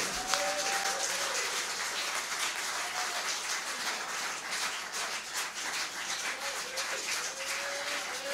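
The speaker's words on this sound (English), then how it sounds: "a big round of applause for tonight's star" An audience at a live blues performance applauds, a sustained, dense wash of clapping that stays fairly loud throughout with no speech on top.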